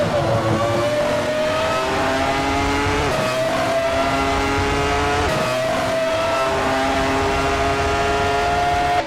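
Race cars in a racing video game roar off the start line together, their engines loud and constant and rising in pitch through repeated gear shifts, with no talk over them.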